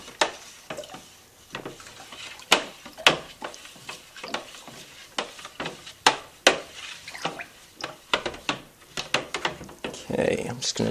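Agave syrup and spirit mixture being stirred in a container, giving wet sloshes and scattered clinks and knocks at close range, with bursts of talk in between.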